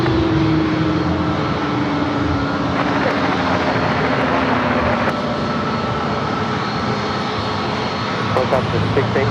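A Delta airliner takes off from runway 27 at San Diego airport with a loud, continuous engine roar, while radio voices talk over it.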